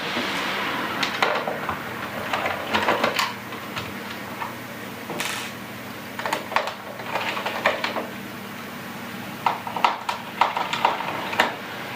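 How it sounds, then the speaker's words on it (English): Screws around the edge of an iMac plastic frame being undone, giving repeated small close clicks and ticks of a screwdriver turning, in irregular bursts with short pauses between. "I'm going to undo these screws around the edge of it"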